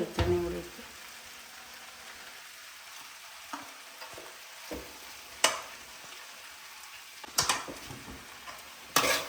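A vegetable stir-fry is stirred in a hot pan, giving a soft sizzle that keeps going under repeated scraping strokes and sharp spatula knocks against the metal, some louder than others, close by and with no voices.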